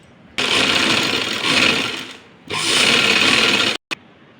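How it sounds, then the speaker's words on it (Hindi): A sewing machine stitches around doll dress fabric, a loud steady mechanical whir running in two long bursts separated by a short pause, with no voice over it. "चलिए अब हम यहाँ सिलाई लगा लेंगे इसके चारों तरफ।"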